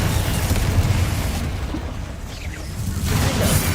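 A spell explodes in the video game Hogwarts Legacy, producing a loud, sustained rumbling blast with a broad roaring texture that dips slightly midway and then swells again.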